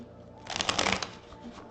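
Tarot cards being shuffled by hand: a dense, papery riffling burst that swells and fades over about a second, close and fairly quiet, with no talking.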